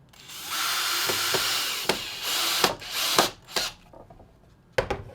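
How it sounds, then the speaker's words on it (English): A power drill driving screws into the wooden frame of a DIY acoustic panel, with a sustained whirring run followed by several short bursts and clicks, close and loud, then quiet. "Once you get your holes drilled, it's just sending a few screws in"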